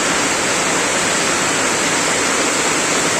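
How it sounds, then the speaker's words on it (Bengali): Heavy downpour of long-lasting rain with water pooled about two feet deep, a dense, loud, unbroken roar of broadband hiss with no voices. "বৃষ্টি অনেকক্ষণ ধরে হচ্ছে, কিন্তু থামার কোনো নামই নেই"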